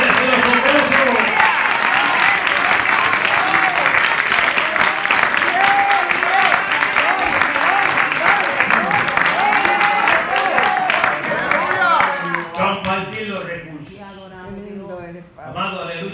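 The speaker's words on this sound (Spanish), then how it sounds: "Es un aplauso a Dios en esta noche." A church congregation breaks into loud, sustained applause with cheering and voices mixed in, clapping and crowd noise running together for a long stretch before easing as a voice rises at the end.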